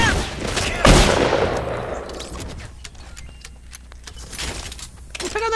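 Gunfire in Fortnite: a loud burst of shots opens the clip, then a rapid string of sharp, crackling reports follows at a distance, overlapping one another in quick succession.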